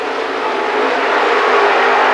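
Late model race cars roar past at Lernerville Speedway in 1994, a loud, continuous engine drone that swells slightly as the pack passes close by, with no voices.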